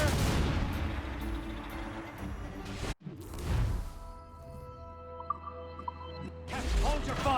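Ship cannons boom loud and close in Assassin's Creed Rogue, one heavy blast at the start and another after a brief silence near three seconds. Rumbling debris and a low ship drone follow, with shouted voices in between.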